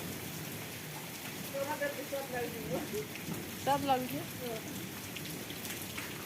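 Rain and small hailstones pattering steadily on a car, a dense continuous hiss of drops on the body and glass, with someone talking over it at moments.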